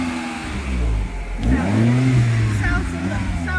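A Citroen DS3 1.6 VTi 120 engine with a K&N air filter and standard exhaust revs up loudly and close by, rising then settling, with people talking over it.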